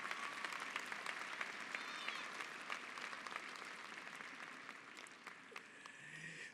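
A crowd at a high school graduation ceremony breaks into sustained applause, many hands clapping in a continuous roar with a few sharper claps and scattered voices mixed in, fading slightly toward the end.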